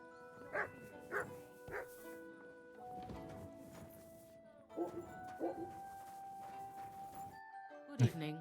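A dog in the medieval video game Kingdom Come: Deliverance II barks in short bursts of two or three, moderately close, over soft game ambience and someone talking.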